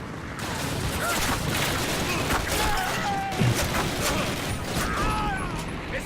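Gunfire and grenade blasts from Call of Duty Classic crackle and boom densely over a loud, busy game soundtrack, and scattered voices are heard.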